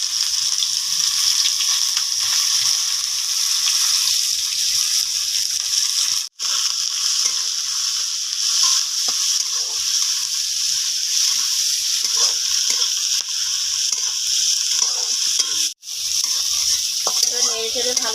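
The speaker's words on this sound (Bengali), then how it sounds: "নেড়ে চেড়ে ভালো করে পেঁয়াজটাকে নেড়ে নেব" Chopped onion sizzles steadily in hot oil with bay leaf, whole cumin and five-spice, stirred with occasional scraping strokes; the frying hiss runs continuously and close, broken by two brief pauses.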